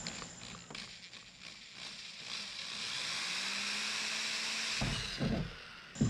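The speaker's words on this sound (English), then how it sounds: "some of these are going to be easier to drill than others" A power drill bores a hole for an inspection port, a steady whining run through the middle of the stretch with scraping and knocks at the start and end.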